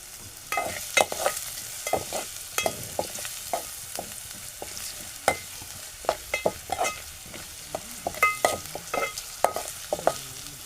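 Chopped onion sizzles and fries in a pan for a village-style raw tomato curry, stirred in frequent scraping strokes over a soft steady crackle, close up with no talking.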